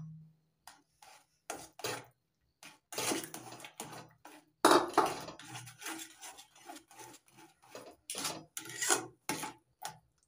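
Spatula scraping and stirring a thickening orange barfi mixture in a pan on low heat while sugar syrup goes in bit by bit, with repeated close, dry scrapes and clinks in an irregular rhythm.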